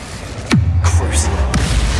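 Incendio fire spell cast in the Hogwarts Legacy video game: a sudden whooshing burst, then a low rumbling roar of flame with a brief crackling flare near the end, loud and close.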